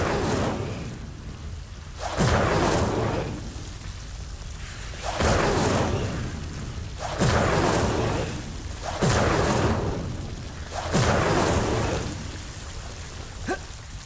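Fire spell cast again and again in the Hogwarts Legacy video game, heard as five loud whooshing bursts about two seconds apart over a steady hiss, with no talking.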